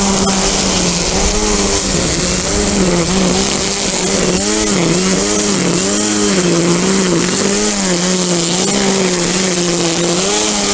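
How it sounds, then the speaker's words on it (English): Loud, steady engine drone of a gas-powered weed whacker cutting down winter rye in a garden, running continuously at high revs with slight rises and dips throughout, close to the listener and without talk. "In my garden I can also do the same thing and use a weed whacker."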